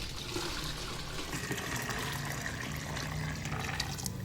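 Cooked boudin meat being strained, with the cooking liquid separated off: a continuous wet pour and trickle of liquid with faint splashes, steady and fairly quiet, no voices over it.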